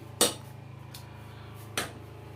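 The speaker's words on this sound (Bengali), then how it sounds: "আমি কড়াইটা বসিয়ে দিলাম" A metal wok set down on a gas stove, two sharp clanks about one and a half seconds apart with a fainter knock between, over a steady low hum, close and with no talking.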